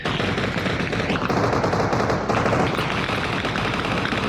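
Continuous rapid bursts of automatic gunfire in the video game ARMA Reforger, dense and loud, with overlapping shots and no pauses for the whole stretch.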